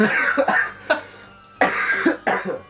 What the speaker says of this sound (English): Cough real quick.